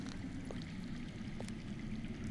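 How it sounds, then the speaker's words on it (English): Underground water in the Game of Thrones video game, a steady, faint, muffled rushing flow with a low continuous churn and no break. "That's water. I hear water. From underground."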